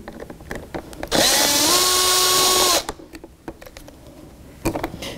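Power screwdriver backing out the screws on a master power window switch in a 1984-2001 Jeep Cherokee: one loud, steady whir of about a second and a half with a rising pitch, between faint clicks and handling noises.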